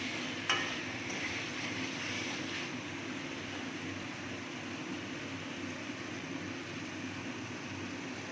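Masala frying in a pan while being stirred for aloo dum, a quiet, steady sizzle running unbroken throughout, with one faint scrape early on and no talking.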